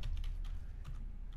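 Quiet, close clicking of fingers typing on a computer keyboard, a quick irregular run of soft keystrokes over a low background hum.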